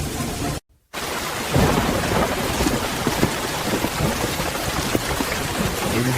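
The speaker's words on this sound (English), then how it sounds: "Hear anything? Just the rain." Heavy rain pours steadily with deep rumbling thunder rolling underneath, loud and close after a brief silent gap at the start, with no voices.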